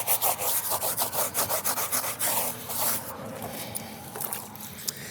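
A stiff brass-bristle brush scrubs hard against the tire of an abandoned Ford F350 in rapid back-and-forth strokes, a loud rhythmic rasping that later slows into slower, irregular scraping.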